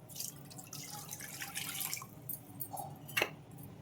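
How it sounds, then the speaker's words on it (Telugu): Water trickles and splashes faintly into a vessel in short bursts, ending with a brief sharper splash. "నీళ్ళు పోసుకుందాం"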